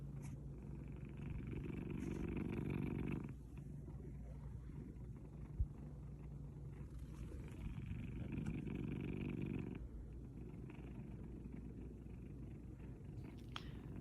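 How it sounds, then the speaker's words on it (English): An ill domestic cat purrs loudly and close up, its rumbling purr swelling and easing in slow, regular breathing cycles of a few seconds each, with no talking. "This is how loud this sweet baby was purring even just a day or two before he passed."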